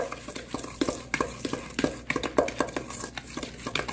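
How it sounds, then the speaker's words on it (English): Waffle batter with sugar stirred in a bowl, a run of quick, uneven scraping and tapping strokes of a utensil against the bowl, close and moderately loud, with no voices. "Mix it together."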